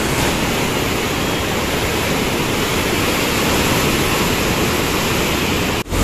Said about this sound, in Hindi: पानी की ये लहरें देख रहे होंगे आप, कितनी खतरनाक है ये लहरें